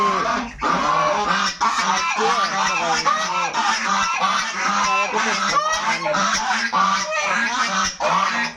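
A flock of ducks on a duck farm keeps up a dense, continuous chorus of overlapping honks and quacks, loud and close, without pause throughout.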